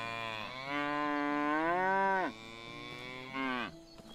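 A cow in the video game Medieval Dynasty lets out a long, loud, close moo that rises and falls, followed by a shorter second call, with no talking.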